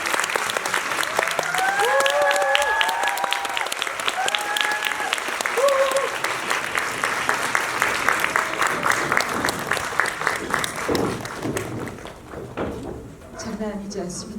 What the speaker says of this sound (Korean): 큰 박수 주시면